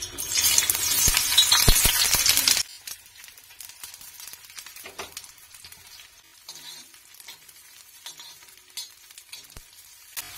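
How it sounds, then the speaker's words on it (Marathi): Coriander, ginger, garlic and coconut hit hot oil in a pan with a loud, crackling sizzle for a couple of seconds. The sound then drops suddenly to quiet stirring scrapes and a faint simmer. "तर आपल्याला हे सगळं भाजून घ्यायचंय. भाजण्यासाठी थोडंसं तेल घालायचंय."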